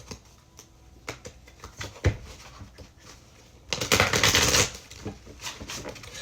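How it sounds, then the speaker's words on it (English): Light tapping and handling noises lead into a dense, fluttering riffle of cards shuffled close by, then quieter taps resume. "I don't know why I'm shuffling again, but I guess I'm doing it"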